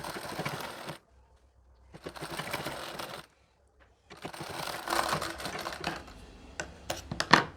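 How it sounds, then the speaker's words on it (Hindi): A sewing machine stitches saree fabric laid on a lining for a nauvari saree, running in several short, close bursts with gaps between them, followed by brief clicks and handling sounds. "अस्तर पर साड़ी का कपड़ा रख के यहाँ भी हम सिलाई लगाकर इसे जोड़ लेंगे"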